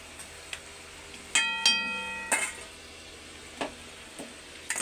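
Fish cooks in a pan with a little added water, giving a low steady simmer beneath scattered utensil taps and clicks, some ringing briefly, at close range.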